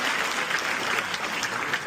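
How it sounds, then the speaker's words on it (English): A debate audience claps steadily for the whole short stretch, a dense wash of many hands with no break. "Y'all give Coastal another round of applause."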